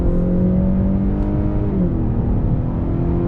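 A 2020 Honda Accord in sport mode is driven through turns, heard from inside the cabin as a steady, loud engine drone and road rumble, with engine pitch shifting slightly partway through and no talk.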